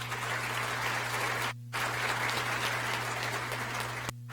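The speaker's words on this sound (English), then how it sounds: "let's give them a round of applause as well" Applause from the audience at a school district State of the District address, a steady, dense wash of clapping under a constant low electrical hum, broken by two short dropouts.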